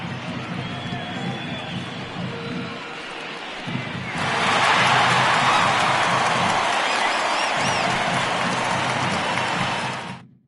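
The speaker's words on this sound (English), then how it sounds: "he receives a nice ovation from this home crowd" A home crowd's ovation in the MLB The Show 19 baseball video game, during an ALDS playoff game in Oakland, swells into steady, loud cheering and applause after a commentator speaks over a quieter crowd murmur.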